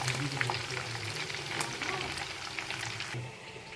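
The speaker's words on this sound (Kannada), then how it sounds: "ನೋಡಿ, ಈ ರೀತಿ ಫ್ರೈ ಮಾಡಿಕೊಂಡು ಎತ್ತಿಟ್ಕೋಬೇಕು ಸಪ್ರೇಟಾಗಿ" Ingredients for a wedding-style shaadi biryani frying in a pan, a dense, loud, continuous sizzle close by with a few faint clinks, and no one speaking.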